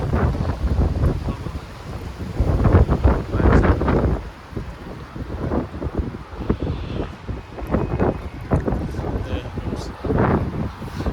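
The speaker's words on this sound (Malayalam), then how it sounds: "നല്ല ശക്തമായ കാറ്റും കാര്യങ്ങളൊക്കെ ഉണ്ട്." Strong gusty wind near Red Square in Moscow buffeting the microphone in heavy low rumbling bursts throughout, with a voice talking faintly underneath.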